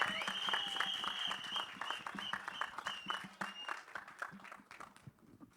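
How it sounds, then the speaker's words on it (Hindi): A crowd at a film trailer launch event applauds with steady, dense clapping that gradually fades over several seconds. "जोरदार तालियां"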